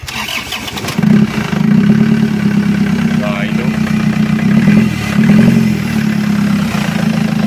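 An engine with a faulty turbo cranks, catches and settles into a loud, steady running rumble close by, with someone speaking briefly over it.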